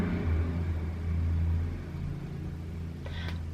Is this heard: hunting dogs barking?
no